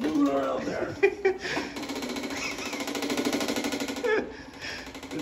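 An automated roto wipe cleaning gadget runs with a steady buzzing, vibrating drone, loud and close, while people talk and laugh over it.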